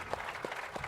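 An audience at the Warbirds in Review 2023 event gives a standing ovation to pilot Bud Anderson, a brief, steady burst of many hands clapping from a crowd.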